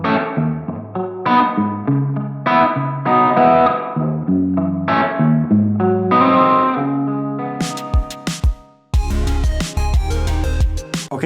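An electric guitar played through a Source Audio Ventris pedal set to spring reverb, with picked chords and notes trailing into a wet, splashy decay, close and loud with no talking.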